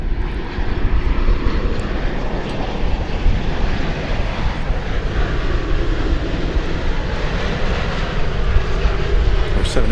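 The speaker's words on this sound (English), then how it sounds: "coming in from Haneda Airport is this 787-800" A Boeing 787-8 airliner arriving from Haneda at DFW Airport roars steadily with loud, continuous jet engine noise and some wind rumble throughout, heard from close range.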